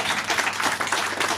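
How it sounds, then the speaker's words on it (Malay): Audience clapping for the king at a temple complex fund-raising launch, a brief dense patter of many hands with some background voices. "Jadi berikan tepukan kepada raja"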